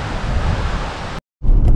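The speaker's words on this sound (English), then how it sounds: "Yeah, it's windy today." Wind gusting by a bay in Door County, Wisconsin, a loud, steady broadband roar that drops out for a moment before returning.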